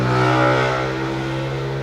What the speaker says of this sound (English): that was a motorbike